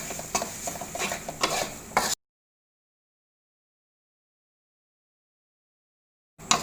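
Fried fish and spice paste for laksa shrimp are stirred in a sizzling pan over low heat, with scraping strokes and crackling frying for about two seconds, then a long silence and a brief burst again at the end.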